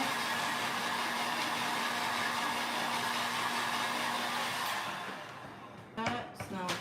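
A hair dryer blows steadily on wet paint, a constant loud whoosh for several seconds that then tapers off as brief rustling and handling noises follow.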